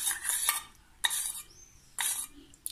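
An old metal spoon scrapes and clinks around a container of melted lemon-scented candle wax. Three distinct stirring strokes come close and clear, with quiet pauses between them.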